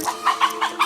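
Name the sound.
chicken flying up toward the camera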